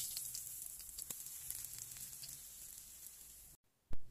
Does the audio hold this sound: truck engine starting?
no